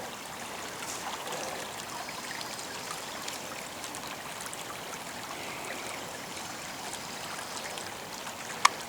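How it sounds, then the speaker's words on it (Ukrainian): Steady rain hisses and patters all around, a constant wet wash with faint trickling water beneath it and no voices. "Здається мені, що ще і зверху дощ пішов знову."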